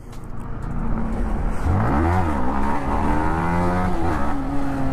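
Motorcycle engine revving hard through a first-gear wheelie, the pitch rising in a sweeping climb, dipping, then climbing again, loud and close with no talking.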